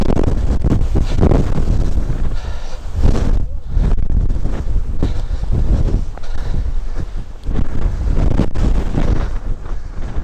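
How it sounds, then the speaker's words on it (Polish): Strong gusting wind on a mountaintop buffets the microphone, producing loud, continuous roaring rumble with rapid surges and brief lulls throughout. "Tutaj tak wieje, że już nie mam czapki."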